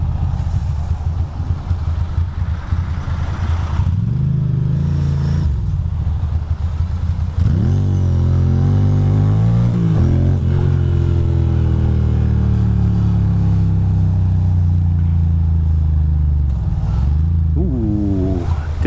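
A car engine on a three-lane road, steady droning with shifting revs and rising and falling pitch as vehicles pass, loud and close throughout.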